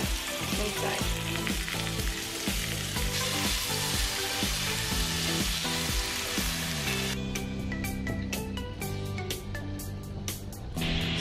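Pasta sizzles and fries in a hot pan, loud and close, with steady crackling, stirring clatter and sharp scraping ticks toward the end.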